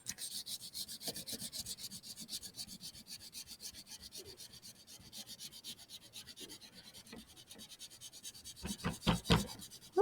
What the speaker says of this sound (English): I'm going to color right over his little stick arms. And just using the side of that crayon.